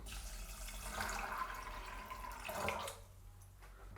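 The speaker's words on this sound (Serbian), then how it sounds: "Prespemo nazad u šerpu i sipamo vodu." Water pours from a tap into a pot of soaked chickpeas, a bright rushing splash that rises in pitch as it fills, then cuts off, leaving a low hum.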